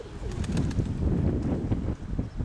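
A pigeon coos in low, soft repeated calls, fairly close, over a steady outdoor background with some rustling.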